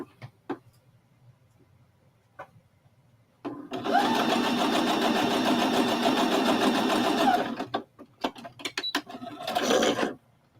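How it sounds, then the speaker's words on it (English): A home sewing machine stitches quilt block pieces together, running steadily for about four seconds after a few faint taps, then stopping and restarting in short bursts. "let's sew this together"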